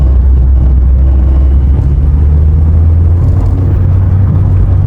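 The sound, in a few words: VW Citi Golf car engine while driving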